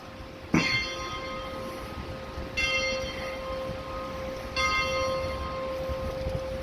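Church bells peal on Arbat Street in Moscow, three separate strikes each leaving a long ringing tone that hangs in the air, heard from some distance over a steady low murmur of the street.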